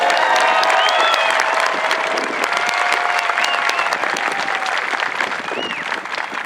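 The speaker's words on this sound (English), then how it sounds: "Please join me with a round of applause." Full, sustained applause with some cheering from a large audience at an Air Force basic military training graduation parade, a dense crowd roar with voices and whistles threaded through, easing a little by the close.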